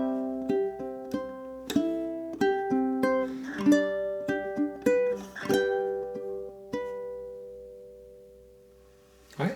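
Ukulele playing the closing bar of Moonlight Sonata, a slow sequence of plucked notes and chords that ring and overlap, ending on a long decaying final chord, close and clear with no talking.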